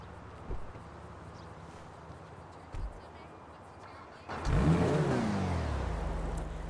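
A sports car engine in a video game, a Coquette D10 supercar modeled on the C8 Corvette in GTA 5 Online, revs up sharply after a few seconds of steady low idling, the roar swelling and holding loud to the end.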